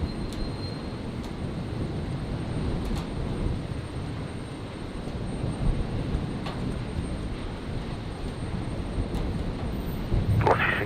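A Qantas airliner on its takeoff roll on runway 01 right at Brisbane International Airport on a stormy night, a continuous distant low engine roar lasting throughout, with a sharper burst of noise near the end.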